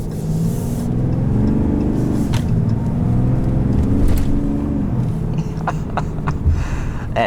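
A 2020 Ram 3500HD Laramie H.O. with a Cummins diesel, heard from the cab while driving: a loud, deep engine drone that rises and falls with acceleration, with a few clicks and rattles near the end.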